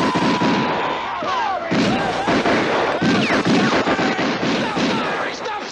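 Dense, loud gunfire from a 1974 horror film, with volley after volley of shots and crackling bursts running continuously, and voices faintly mixed in beneath the barrage.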